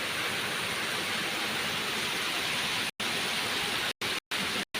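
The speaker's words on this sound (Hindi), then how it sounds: "बिल्कुल मूसलाधार बारिश।" Dense, steady hiss of a heavy downpour, loud and continuous, broken by a few abrupt silent dropouts near the end.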